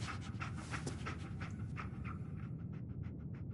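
Dogmeat, the dog companion in Fallout 4, pants in quick rhythmic breaths over a faint, steady game background, with no voices.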